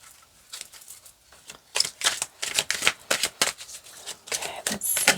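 Tarot cards shuffled by hand, a close series of quick papery riffles and flicks in irregular bursts, growing busier after a quiet start, with no talking.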